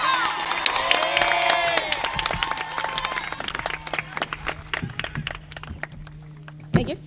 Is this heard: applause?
yes